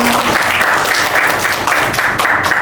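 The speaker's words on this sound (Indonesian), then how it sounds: "tepuk tangan untuk Rahel." Classroom applause from a group of students, loud, dense and continuous clapping close by, with a faint voice briefly audible at the start.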